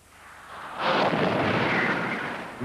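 Whaling harpoon cannon fired from a boat at a whale, a loud booming blast that erupts and rolls on as a broad rumbling roar before slowly fading.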